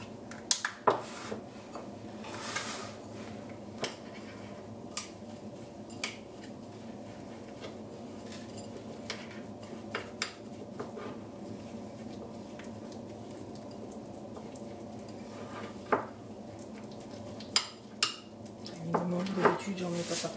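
Oat flakes, about 30 grams, are stirred in a bowl with a spoon, giving soft scraping and occasional sharp clinks of utensil on dish over quiet room noise, with a brief louder clatter near the end.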